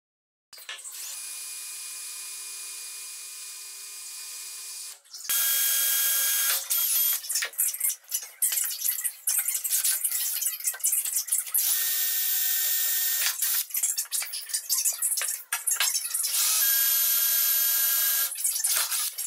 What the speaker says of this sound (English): So I put a little lubricant on each spot and drilled out each hole.